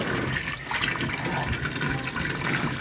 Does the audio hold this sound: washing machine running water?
yes